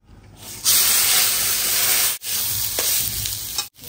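Rice and lentils fry in a pan for khichuri, giving a loud, continuous sizzle with stirring scrapes that cuts out briefly twice.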